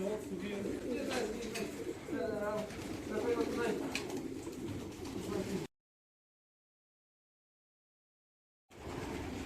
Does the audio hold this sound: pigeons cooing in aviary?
yes